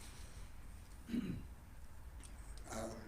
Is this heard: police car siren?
no